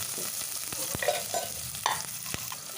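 Dry chilies and onions fry with mustard seeds in hot oil, a continuous close sizzle broken by several sharp spoon scrapes and taps as they are stirred, with no voices.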